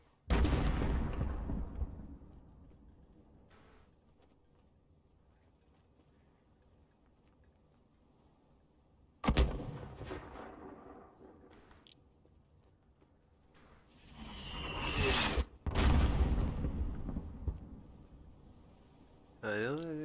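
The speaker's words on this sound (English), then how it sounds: "Alex, there's another Alcatala mortar team." Mortar fire and explosions in Call of Duty Modern Warfare's highway combat: a few loud, sharp blasts with long decaying rumbles, separated by quieter stretches, with voices talking between them.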